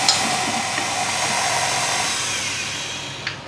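An electric mixer whirs at low speed through cold brew coffee cake batter, a steady close buzzing hiss that eases slightly toward the end, with a small clink near the finish and no talk.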